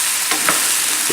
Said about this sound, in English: The pork will cook.